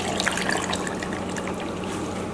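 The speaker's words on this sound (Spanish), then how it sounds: "aquí tengo una taza de agua caliente" Hot water poured from a cup into a blender jar with garlic, yellow and red chicken bouillon and chiles while making birria, a steady close trickling splash lasting throughout.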